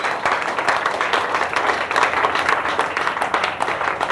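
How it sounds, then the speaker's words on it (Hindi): A crowd applauding at a gathering, dense overlapping claps kept up steadily from start to finish, loud and near, with no talking on top. "इसके लिए जबरदस्त ताली होनी चाहिए।"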